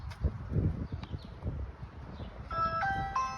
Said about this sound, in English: Doorbell ring is set up and ready to go.